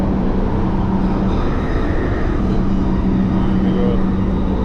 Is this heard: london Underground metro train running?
yes